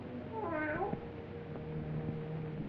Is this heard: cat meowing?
yes